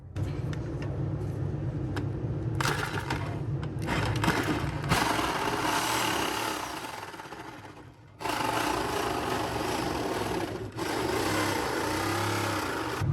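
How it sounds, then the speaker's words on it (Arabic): Power tool cutting through the steel body of a 1968 Dodge Charger in a workshop, a loud grinding rasp that runs in long passes with short breaks between them, and no talk. "فالحين خلونا نكمل نقص كذا بحركة دائرية"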